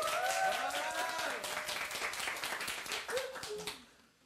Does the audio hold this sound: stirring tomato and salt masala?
no